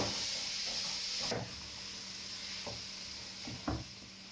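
Onions with red and green peppers cook in a pan, giving a steady soft sizzle and hiss, broken by a few light clicks and taps from the pan or utensil.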